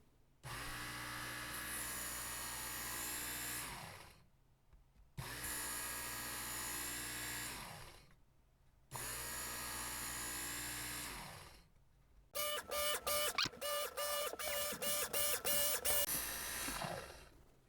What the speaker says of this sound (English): And you pull the knife through, and I'll show you what that looks like.